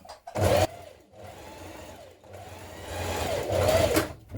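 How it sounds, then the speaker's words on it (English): A sewing machine runs in short, fast bursts as it understitches a seam onto a summer dress pocket. The motor hums with a rising and falling whir, pausing briefly between runs, close and clear with no talk. "Then you're going to understitch your seam to your pocket."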